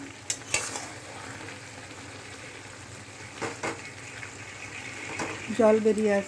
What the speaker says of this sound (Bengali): তুলে দিয়ে এবার আবার নাড়তে লাগলাম। নাড়তে নাড়তে দেখো জল বেরিয়ে আসছে।